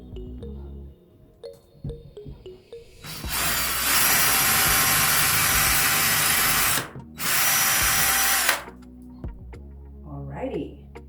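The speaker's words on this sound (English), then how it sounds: "So I've got my holes all marked out. So I'm gonna drill now." A power drill bores holes into an interior wall in two long continuous bursts, loud and close, with a short pause between them and brief quiet talk and handling noises before and after.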